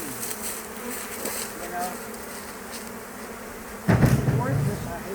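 Honey bees drone densely at an open beehive during hive work, with a louder burst of buzzing near the end; a person speaks briefly.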